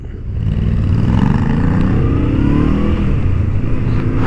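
A 2023 Honda CL500 motorcycle accelerates on a racing track. Its engine note rises into a loud, close, continuous roar that climbs steadily in pitch after a brief quieter start.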